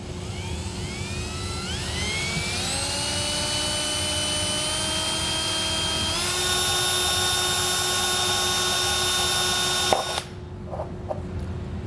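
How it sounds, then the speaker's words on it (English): Electric drill boring a pilot hole through the metal cab roof of a 2022 Chevrolet Silverado pickup, fitting an LED cab light kit; a loud, close whine climbs in pitch as it speeds up, holds steady, then cuts off abruptly near the end. "Now go ahead and drill your pilot hole."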